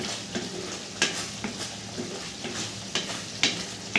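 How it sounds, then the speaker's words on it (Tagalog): Ground pork sautés with garlic and onion in a pan: soft frying sizzle broken by periodic scrapes and clatters of a stirring utensil, close and fairly quiet, with no talk. "Igisa mo lang yung giniling na may bawang at sibuyas."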